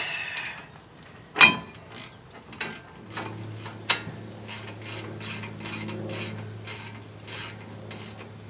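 Ratchet turning 18mm brake caliper bolts on a Ford F-series truck, a few sharp metallic clicks followed by steady close-up ratcheting with faint mechanical rubbing, no talk.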